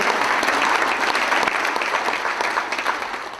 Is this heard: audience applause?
yes